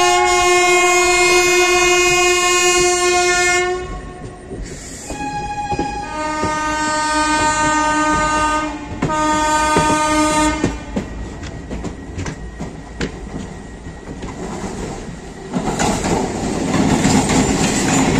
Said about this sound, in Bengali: আর এই কিন্তু আমাদের ট্রেন ছেড়ে দিল কটক থেকে, এখানে 5 মিনিট দাঁড়ালো।